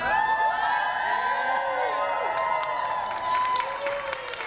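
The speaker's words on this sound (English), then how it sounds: "Family and friends gather to cheer on five members from Interstring Taekwondo" Family and friends of a taekwondo team cheer and shout together, a dense crowd of whoops and children's yells with some applause, continuous and loud throughout.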